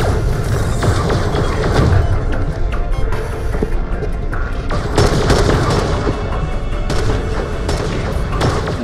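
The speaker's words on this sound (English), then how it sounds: "This grenade, I don't see how good it is." Grenade blasts and explosive booms in the shooter game Borderlands: The Pre-Sequel, a dense, continuous barrage of loud thuds and bangs layered over game noise with no pauses.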